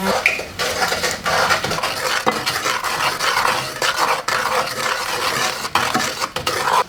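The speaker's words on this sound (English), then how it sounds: "just stir it all in." A coffee slice mixture being stirred in a bowl, with a spoon steadily scraping and clinking against the sides in a continuous, close, busy rhythm and no talking.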